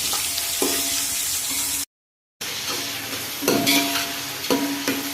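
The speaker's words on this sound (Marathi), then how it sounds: "आता आपण कांदा घातला, कांदा चांगला लाल होईपर्यंत आपण परतून घ्यायचा आहे।" Onions sautéed in oil in a pot with whole spices for chicken biryani: a continuous close sizzle and hiss with periodic scraping stir strokes and thuds, briefly cut to silence midway before resuming, no talk.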